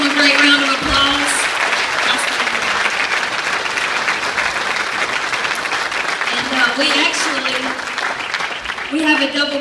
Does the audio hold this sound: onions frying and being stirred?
no